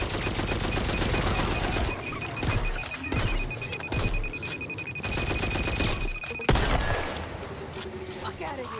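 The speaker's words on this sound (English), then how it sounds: "Machine gun." Rapid machine gun fire in the zombie shooter Back 4 Blood, long dense bursts of fast, loud shots with brief pauses between them and a ringing tone overhead.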